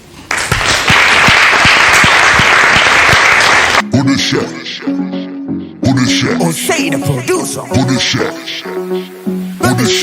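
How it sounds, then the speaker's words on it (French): Studio audience applause greets a guest on the French talk show Le Grand Café de Greg, a loud, dense burst of clapping lasting about four seconds before it gives way to music and voices. "Applaudissements pour lui."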